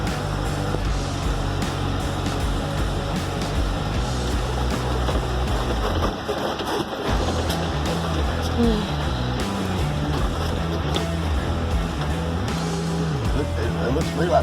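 Cars move around an RV site in a steady, loud engine and road rumble, with tire noise rising and falling and a brief dip partway through; faint talk sits underneath.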